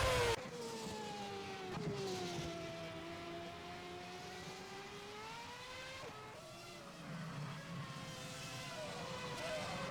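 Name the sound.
race cars driving a warm-up lap in a racing video game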